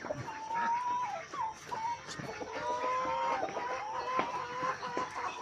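About 30 egg-laying hens cluck and call continuously on a small farm, with a rooster-like crow mixed in, forming a busy barnyard chorus close by.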